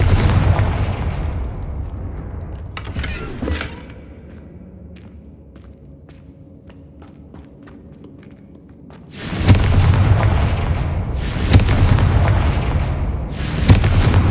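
A Confringo fire spell going off in the video game Hogwarts Legacy, with rumbling booming blasts up front, a quieter stretch of faint game ambience, then further heavy explosive bursts and thumps.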